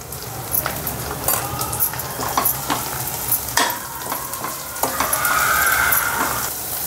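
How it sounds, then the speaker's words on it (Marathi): Sizzling and crackling of spices and turmeric in hot oil for a besan pithla tempering, steady and close, with scraping stirring sounds and sharp pops scattered throughout. "आता फोडणी टाकायला बघ"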